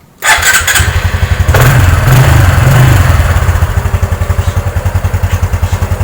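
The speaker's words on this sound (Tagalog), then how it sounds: "Then karon atong pandaron ng motor." Honda XRM 125 motard motorcycle engine catching after silence with a sharp start, then settling into a loud, close, steady thumping idle with a pulsing rhythm and no talking.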